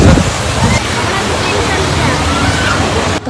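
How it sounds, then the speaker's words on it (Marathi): A small waterfall roars nearby, a loud broadband rush of falling water that holds steady before cutting off abruptly near the end, with voices faintly mixed in. "मागे मस्त धबधबा आहे"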